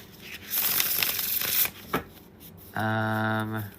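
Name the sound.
shuffling tarot cards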